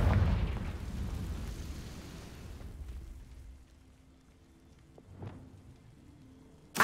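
A Confringo fire spell going off in the video game Hogwarts Legacy: a loud, rumbling explosive burst that fades over a few seconds. Quieter rumble and a brief sharp pop follow near the end.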